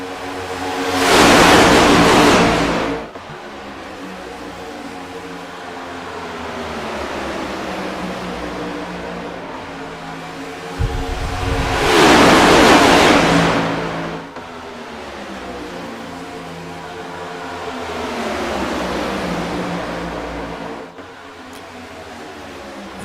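Next Gen stock cars roar past on the Daytona oval coming off turn 4, two loud, close passes that swell and fade about ten seconds apart over a steady engine drone.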